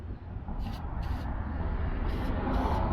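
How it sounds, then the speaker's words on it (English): Battery terminal protector sprayed onto car battery terminals in short bursts, four brief hissing spurts over a low rumbling background, fairly close. "Now we can spray the battery terminals with the battery terminal protector that prevents corrosion"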